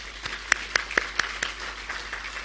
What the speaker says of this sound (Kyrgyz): Кол чаап коелубу?